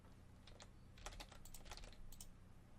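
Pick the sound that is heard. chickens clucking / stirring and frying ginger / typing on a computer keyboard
typing on a computer keyboard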